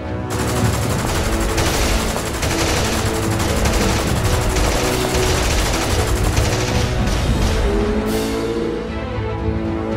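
Sustained, dense gunfire from the video game Army Men: Plastic Platoon, rapid machine-gun bursts and overlapping shots forming a loud continuous barrage throughout, with occasional booms and no talking.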